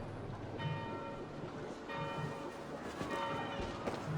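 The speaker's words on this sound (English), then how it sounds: "Do you not hear the bells?" Church bells ring in the Assassin's Creed Valhalla video game, a steady series of tolling strikes sounding faint and distant beneath a dense ambient wash.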